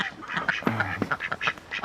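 Two ducks quacking close by in a rapid run of loud, raspy calls, one lower drawn-out honk in the middle, with nothing else heard.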